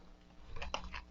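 A new Botanica tarot deck is shuffled by hand, giving a short burst of soft, crisp card flutters and riffling pattering close by, with no talking.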